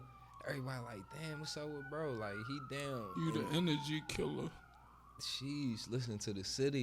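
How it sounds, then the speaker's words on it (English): An ambulance siren wails and sweeps steadily in the background while people talk over it nearby. "Yeah, that was the ambulance that he talking about."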